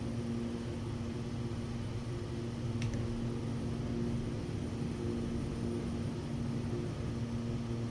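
Steady drone of the Lancair Evolution's engine in the X-Plane 12 flight simulator, climbing after takeoff, a continuous tonal hum with a droning low end that holds level throughout.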